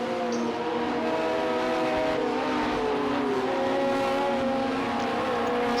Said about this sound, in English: You can hear the car on the other side.